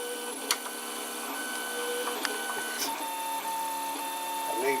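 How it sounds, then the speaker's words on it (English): A belt-drive printer fitted with quick-release feeding prints steadily, giving a constant mechanical whir layered with shifting motor tones and occasional small clicks, moderately quiet and close by. "it's printing over there, more near the right hand side"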